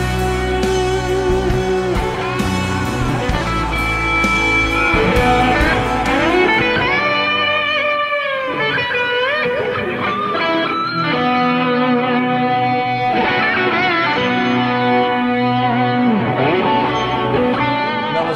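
A loud electric guitar with thick fuzz distortion plays sustained chords and bending lead notes over steady backing, with a smooth, dark tone throughout.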